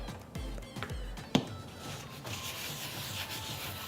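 Soft, steady rubbing as oil is worked by hand over a rusty cast iron skillet, with a brief sharp knock partway through and no talking.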